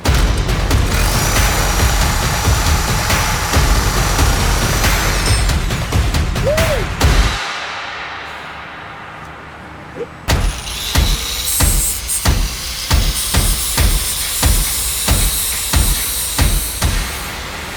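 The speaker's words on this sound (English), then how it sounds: "We got the Milwaukee Super Sawzall." A Milwaukee Super Sawzall, a 15-amp reciprocating saw, runs loud and harsh, cuts out briefly, then restarts with a choppy, pulsing buzz and sharp bursts as it works, close to the listener.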